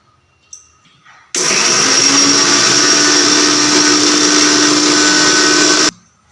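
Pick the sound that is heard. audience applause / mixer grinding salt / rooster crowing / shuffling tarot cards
mixer grinding salt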